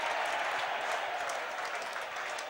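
Football crowd at a 2007 SANFL match between Glenelg and West Adelaide applauding, a steady distant patter of clapping from a large stand throughout.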